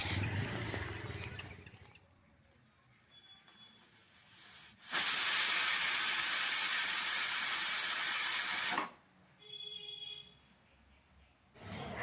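A pressure cooker vents steam while dal cooks on a home stove, a loud, steady, broad hiss bursting out for about four seconds between quieter kitchen stretches, with faint tonal clinks before and after.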